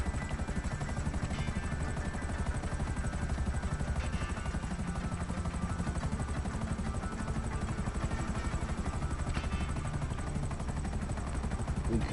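Helicopter in the video game GTA 5, a steady loud rotor and engine drone running continuously without pause, with faint sharp bursts that could be distant gunfire layered underneath.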